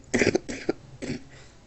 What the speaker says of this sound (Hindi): आज खांसी बहुत आ रही है।